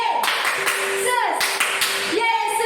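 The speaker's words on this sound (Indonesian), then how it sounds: "Tepuk Yesus, Yesus," Children clap their hands during a kids' worship service, quick rhythmic claps mixed with singing and music, lively and close.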